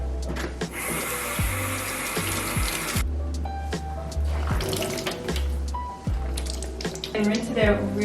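Tap water running and splashing in a sink while rinsing out during a DIY herringbone marble floor project, a steady hiss with clunks and handling knocks, a voice talking over it.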